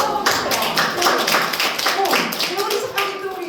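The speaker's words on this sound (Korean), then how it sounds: "계속 하고 박수 한번" Audience applause at a Korean group health lecture, dense and steady, with a presenter talking over the clapping throughout.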